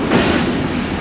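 A KCR local train in Karachi runs along the track, a dense, steady rumble with rail clatter filling the whole second, close and loud, with no voices.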